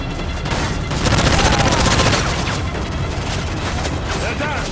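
Mortar fire and heavy gunfire boom continuously through a Call of Duty Modern Warfare 2 cutscene as a rooftop mortar is manned against approaching militias. A dense, loud barrage with overlapping explosions plays under shouted voices.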